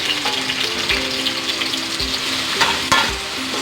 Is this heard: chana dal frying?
yes